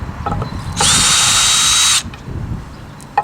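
A Hart cordless drill running in reverse to back wood screws out of wood, a loud close whine lasting just over a second with faint handling noises before and after.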